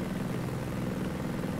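A helicopter in the video game Ghost Recon Breakpoint gives a steady, loud rotor drone with a fast chopping pulse, holding constant and close with no talk over it.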